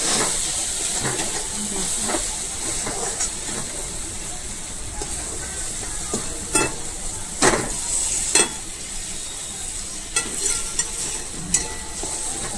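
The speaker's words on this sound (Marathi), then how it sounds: "मसाला सर्व आपण आता मिक्स करून घेऊया।" Chili powder and masala are stirred in a sizzling pan for paneer bhurji, a steady frying hiss broken by repeated scraping strokes of a spoon, while someone talks.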